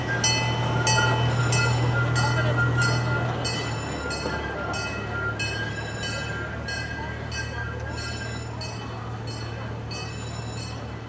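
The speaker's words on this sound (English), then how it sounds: "Just a train coming past." A train passes by on a railway in Germany, a loud, sustained rumble with metallic wheel squeal and rhythmic clacking, heard nearby and gradually easing off, with no talking.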